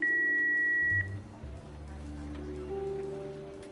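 Answering-machine beep in a Jackbox party video game: one sustained electronic tone lasting about a second, followed by a low musical hum and a faint short tone.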